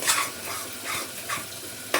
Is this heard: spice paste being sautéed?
yes